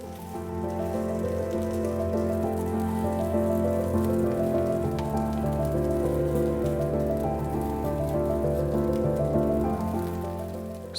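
Rice balls searing in avocado oil in a non-stick pan over medium heat, giving a steady, dense sizzle and crackle that stays loud and even throughout with no talking.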